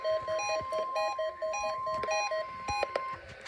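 Emergency alert alarm tones from a weather radio during a routine weekly EAS test, a steady train of repeated electronic beeps with a sustained high tone, loud and close, with no voices.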